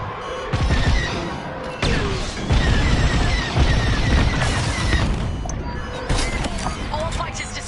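Rapid blaster fire from starfighters in Star Wars: Squadrons rattles through a busy space dogfight, bursts of shots and booms over engine roar, with game voices speaking at times.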